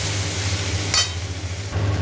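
Potatoes and ridge gourd with turmeric fry in a pan, giving a low, steady sizzle with one brief scrape of stirring partway through.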